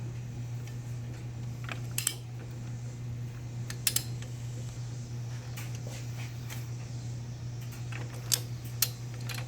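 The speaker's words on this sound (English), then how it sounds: "We got our torque wrench set to 75 foot-pounds." Torque wrench tightening a transmission mount bolt on a 2012 Mazda 3, a few sharp clicks and ticks spaced apart over a steady low hum.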